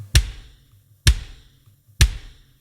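Full drum kit mix with kick, overhead and room microphones blended together: three evenly spaced heavy hits about a second apart, each a deep thump with a bright crash of attack and a short, roomy decay.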